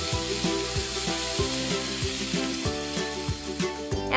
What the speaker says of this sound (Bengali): টমেটো দিয়ে আমি ভালো মতো নেড়ে চেড়ে সব কিছু একসঙ্গে মিশিয়ে নিচ্ছি